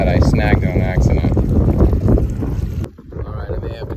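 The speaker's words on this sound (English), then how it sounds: "It's very windy out here" Strong wind buffeting the microphone out on open water from a boat during a bass fishing trip, loud roaring gusts that dip briefly near the end, with a voice partly audible underneath.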